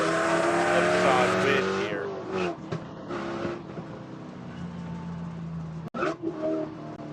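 Spec Corvette and Mustang race cars at Buttonwillow Raceway roar loudly as engines rev and downshift, passing close with a brief tire screech, then fade, while a commentator talks over the action.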